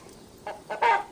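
Chickens clucking close by in a few short bursts, the last one loudest, with a quiet background and no talking.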